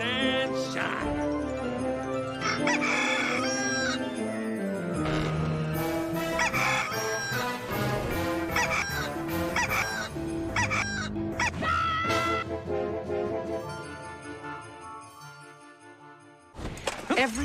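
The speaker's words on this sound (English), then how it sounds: "Every day, the rooster crows" A rooster crows loudly and close by in a long drawn-out call, with clucking fowl around it and a busy background of other sounds.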